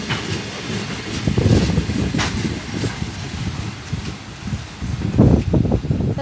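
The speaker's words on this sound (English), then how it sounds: "And here comes the train end." Train wagons rolling past nearby, a steady rumbling clatter with rhythmic wheel clicks that swell near the end as the final cars go by, no talk over it.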